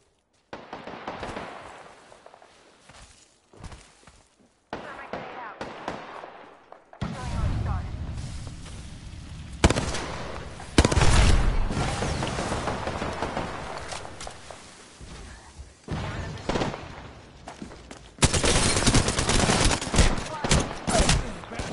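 Video game gunfire during a System Override match, with bursts of shots and heavy impacts in several loud clusters, mixed with game noise and voices talking over the action.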